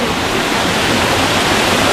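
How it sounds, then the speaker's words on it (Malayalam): A waterfall roars in a steady, dense rush of falling water with no breaks, loud and enveloping along a forest ride route toward Agumbe. "ഇതാണ് വെള്ളച്ചാട്ടം"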